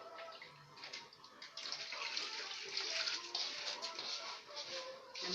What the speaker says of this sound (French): Je mets l'eau.